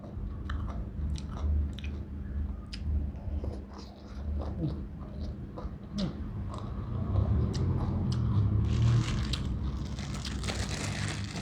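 Close, steady chewing and crunching of a meal of banana and bamboo shoot curry, with moist bites repeating over a low background hum.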